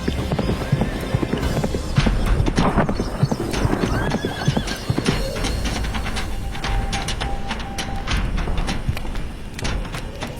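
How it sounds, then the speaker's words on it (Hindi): Horse hooves clip-clop in a quick galloping rhythm across the whole stretch, joined by a loud neigh and whinny, as a king rides off on horseback in an animated Hindi folk tale. "बड़े महाराज तुरंत घोड़े पे सवार उन ऋषि मुनि के पास पहुंच जाते हैं"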